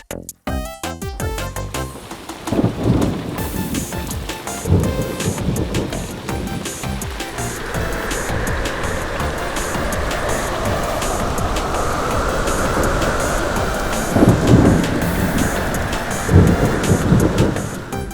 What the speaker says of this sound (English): now it's time for the storm